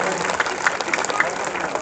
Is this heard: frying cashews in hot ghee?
no